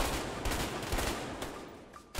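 Dense, loud gunfire from the video game A Way Out, with rapid overlapping shots and bursts crackling continuously for a couple of seconds with no talk.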